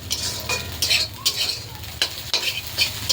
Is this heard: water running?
no